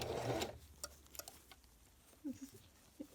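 A sewing machine top stitches all the way around the edge of a double layer fitted cloth face mask, with a brief burst of fast stitching at the start followed by quieter scattered clicks and faint handling of the fabric.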